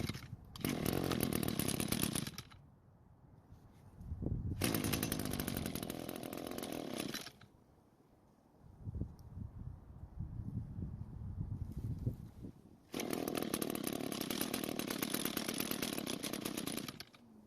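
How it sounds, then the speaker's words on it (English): An Echo string trimmer's small two-stroke engine runs in loud bursts, then stalls into quiet. It restarts to a rough idle and roars up again as it struggles to stay running with a carburetor fault. "it doesn't want to stay running even after moving the choke lever in different positions"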